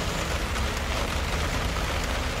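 Cold rain falls steadily outdoors by a river as dense, even hiss and patter close by, with no voices.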